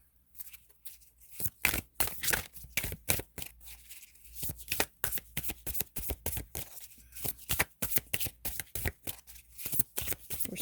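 Tarot cards being shuffled and drawn from the deck, with a long run of crisp, close riffling and slapping card sounds in irregular bursts and no speech.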